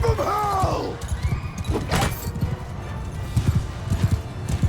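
Horses neigh and gallop in the video game Mount & Blade II: Bannerlord, a whinny at the start followed by steady rapid hoofbeats and a crash, with faint voices in the mix.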